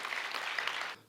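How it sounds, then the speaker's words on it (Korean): An audience at a business talk concert gives a brief burst of applause for a company CEO. Dense, close clapping lasts about a second before cutting off abruptly. "김남현 대표님께 다시 한번 박수 부탁드리겠습니다"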